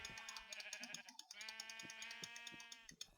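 A sheep bleats in a video game, several close, clear bleats in quick succession with nothing else behind them.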